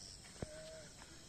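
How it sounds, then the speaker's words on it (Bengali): Crickets chirp at night at Tilagaon Eco Village in Srimangal, a faint, steady high trill with one brief low thump partway through. "ঝিঝি পোকার ডাক শোনা যাচ্ছে"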